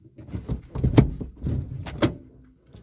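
Daewoo Matiz 0.8 from 2002 with its power window running up and down, a couple of short whirring motor strokes with small clunks, close by and fairly quiet.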